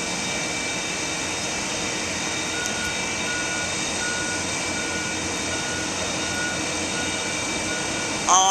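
A Simon Global deicer truck without a rotating cab runs with a steady, loud, broad engine and blower roar that stays constant throughout, with faint repeating reversing beeps over it.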